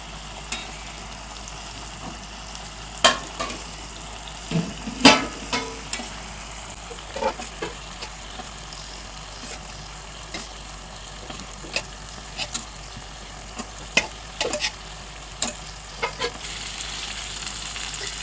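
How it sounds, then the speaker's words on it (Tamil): Beaten eggs hit chicken frying in a pan, giving a steady broadband sizzle with scattered crackles and a few sharper pops, heard close and alone without any talk. "இந்த முட்டையை இதில் அப்படியே மேலே ஊற்றணும்."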